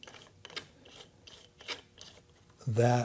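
A 1/4-20 bolt threads into a hole on a router plate and is tightened, giving a run of faint ratcheting clicks and rubbing, followed by a short, louder spoken word at the end.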